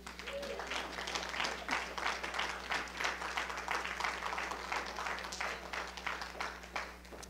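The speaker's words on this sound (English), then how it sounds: "Let's just give God a hand clap." A church congregation claps together in a steady, dense patter of hands that fills the room and holds for several seconds, with faint voices mixed into the applause.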